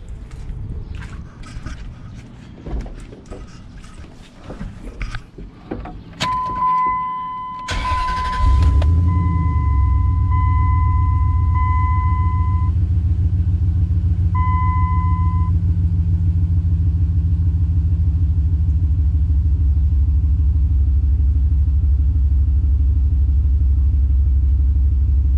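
A car's engine fires up after a coil pack replacement with Autosaver coil packs, preceded by clicks and electronic warning chimes. A short crank gives way to a steady, loud, low rumbling idle that holds to the end.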